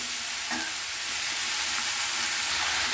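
Ginger being stirred and fried in a pan while cooking a cauliflower and potato dish, giving a steady close sizzle with faint scraping of the stirring throughout, no voices.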